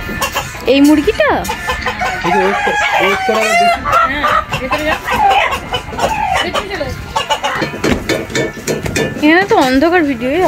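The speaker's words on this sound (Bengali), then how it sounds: "এই মুরগিটা" Country chickens at a market cluck loudly and close, with a rooster crowing in repeated wavering calls and people talking over the birds.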